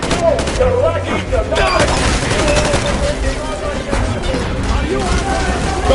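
Dense gunfire from the video game Metro Exodus, with rapid automatic bursts and heavy shots crackling nonstop in a loud firefight, while voices shout over the shooting.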